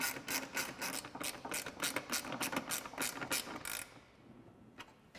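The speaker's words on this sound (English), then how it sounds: "Then I'll grab that 10mm ratcheting wrench to tighten that down" A 10mm ratcheting wrench tightens a headlight bolt on a 2014-2015 Chevrolet Silverado 1500, giving a quick run of close, crisp clicks that stop abruptly, then faint handling noise.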